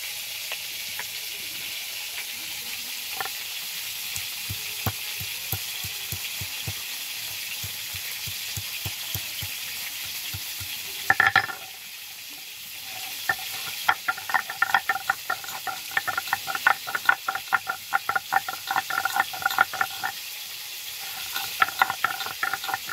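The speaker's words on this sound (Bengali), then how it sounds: "দেখো পটলগুলো খুব ভালোভাবে ভেজে নিয়েছি" Pointed gourd (potol) sizzles steadily in oil in a pan, with a constant hiss broken by repeated sharp taps and rattles of stirring, a brief pause midway, then renewed clinking and sizzling.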